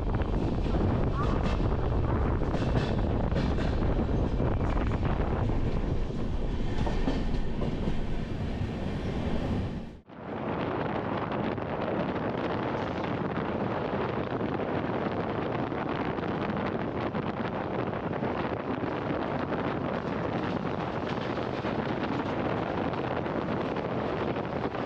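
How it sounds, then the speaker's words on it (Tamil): Tamil Kasi Sangamam Express running past Ongole, heard as a loud, steady rumble and rattle of rolling carriages with wind roar, briefly dipping around the midpoint before the continuous clatter resumes. "கரெக்டாக ஓங்கோல் தாண்டி வண்டி ரன் ஆகிட்டு இருக்கு"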